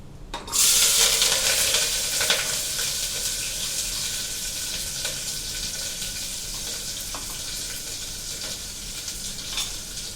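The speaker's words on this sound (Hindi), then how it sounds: "अब डालूंगी मैं गोभी, और गोभी के साथ ही मैंने इसमें हरी मिर्च भी डाल रखी है।" Cauliflower pieces and green chili tipped into hot oil burst into a loud, close sizzle that stays strong and hissing, easing only a little as it continues, with a few clinks and scrapes and no talking.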